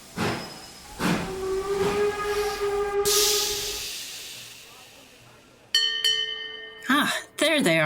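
Loud rushing hiss of steam swelling and then cutting off, preceded by tonal whistle-like hoots and followed by further sharp hissing bursts and tones.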